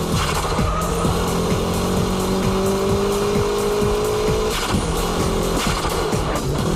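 A drift car laps Ebisu circuit, its engine loud and constant, with rising and falling rev tones and tire noise continuing throughout.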